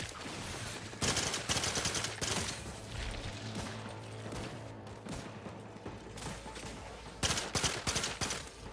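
A double-barrel shotgun blasts repeatedly in the video game Outer Worlds 2, loud broadband shots in bursts near the start, through the middle and toward the end, over a steady low in-game hum.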